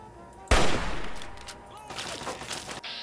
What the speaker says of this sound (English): Oh, it's a Mark V turret.